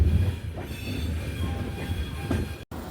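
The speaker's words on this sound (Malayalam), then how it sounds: "ട്രെയിൻ അപ്പോൾ കൊല്ലം ജംഗ്ഷൻ റെയിൽവേ സ്റ്റേഷനിലേക്ക് കയറിക്കൊണ്ടിരിക്കുകയാണ്" The Himsagar Express rumbles into Kollam Junction station, with steady rolling wheel noise, faint metallic squeals and low clatter heard from inside the carriage, continuous and moderately close with no voices.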